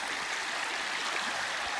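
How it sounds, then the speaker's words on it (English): Babbling brook along a forest trail near Fife Lake, a steady broadband rush of flowing water that holds level throughout, close and continuous with no voices. "listen to the babbling brook"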